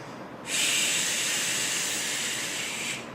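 A viper's warning hiss, long, loud and steady like a pressure-cooker whistle, starts abruptly, holds for about two and a half seconds, then stops, close by and without other sounds.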